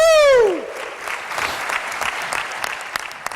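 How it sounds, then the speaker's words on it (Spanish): A church congregation breaks into loud, sustained applause that fills the hall with dense clapping, following a voice whose last sung or spoken note fades out at the start. "Fuerte, fuerte ese aplauso"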